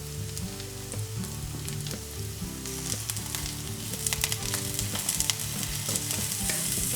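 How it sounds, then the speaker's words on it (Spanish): Tempeh frying in a little oil in a pan, a steady close sizzle with occasional crackles and pops that grow a bit busier toward the end. "En un poco de aceite en la sartén doramos el tempe."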